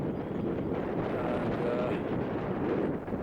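Steady strong wind buffeting a microphone on an open Scottish hilltop near Black Crag, a continuous low roaring rush with slight gusting swells throughout.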